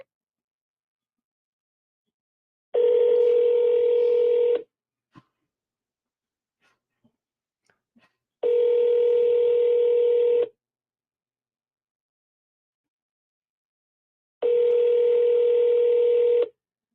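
Three separate steady telephone tones sound clearly, each about two seconds long and spaced by silence, during a phone call to a property seller.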